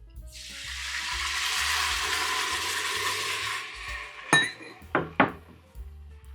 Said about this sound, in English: So I'm going to add a cup of water.